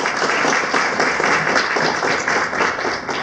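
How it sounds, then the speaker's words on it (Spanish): Audience at a talk on newborn screening gives a doctor a warm welcoming round of applause, dense, even clapping filling the room throughout. "vamos a darle un fuerte aplauso a la doctora por favor para recibirla"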